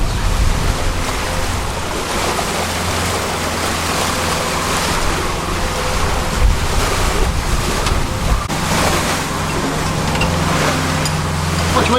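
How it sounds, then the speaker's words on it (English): A sailboat's engine drones steadily at sea beneath loud wind buffeting and breaking waves, a constant low rumble partly masked by the roar of water and gusts, with no talk. "Just wish we could get rid of this engine."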